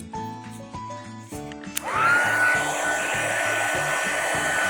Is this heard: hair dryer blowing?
yes